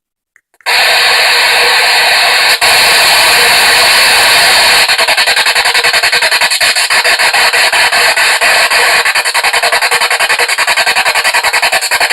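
Loud, harsh FM static from a PSB7 spirit box radio sweeping through stations, a constant hissing roar that switches on abruptly and continues with rapid rhythmic chopping.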